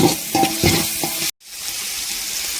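Tomato frying in a pan for a fish curry, with stirring scrapes and a steady sizzle; a sharp cut at mid-clip leaves a softer, continuous frying hiss.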